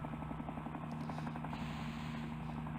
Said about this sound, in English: Oh, here's our chopper.